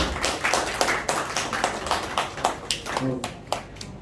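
An audience at a product presentation claps for a speaker introduced for a closing speech, with scattered, uneven clapping that comes and goes under lively talking.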